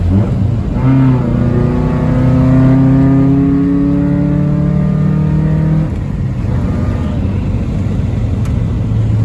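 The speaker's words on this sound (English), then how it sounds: "I'll give it a little third gear pull." A 1994 Honda Accord coupe pulls hard in third gear, its engine note rising steadily and loud for several seconds before the throttle lifts and the sound drops to a lower drone.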